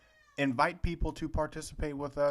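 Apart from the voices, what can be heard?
cat meowing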